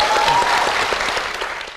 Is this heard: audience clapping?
yes